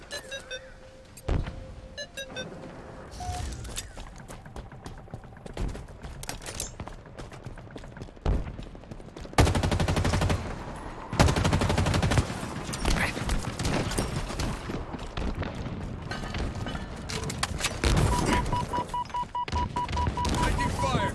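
Bursts of automatic gunfire and loud weapon blasts in Halo Infinite multiplayer, coming in several heavy stretches amid in-game electronic tones, with talking over the action.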